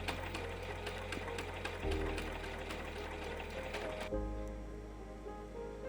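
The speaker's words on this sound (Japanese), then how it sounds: "ミシンだから飾り縫いたくさんしましたよ" A sewing machine running decorative stitches on fabric for a small handmade bag, its steady mechanical whir holding close and loud, changing pitch twice as the stitch pattern shifts, with no talking.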